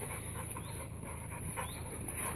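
A brown dog pants quickly and faintly while playing, with soft whimpers and small yips mixed into the rapid breathing, all at low volume.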